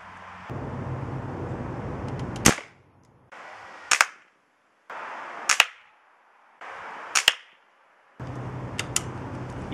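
Five sharp gunshots fired at a target, spaced a second or two apart, each a loud close crack with a short tail, over a steady background hum.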